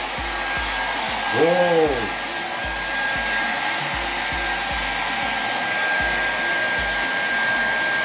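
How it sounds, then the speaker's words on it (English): A hair dryer blows with a constant close whir throughout, while a person briefly exclaims over it. "they said you need to use a blow dryer"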